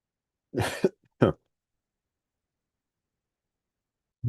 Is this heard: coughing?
yes